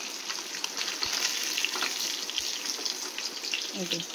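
Steady hissing sizzle of hilsa fish frying in oil with scattered pops and crackles, moderately faint, with a few soft knocks and no voices.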